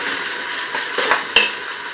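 Garlic goes into a frying pan of browning onions, giving a close, steady sizzle with stirring scrapes and a sharp metallic clink of utensil on pan partway through.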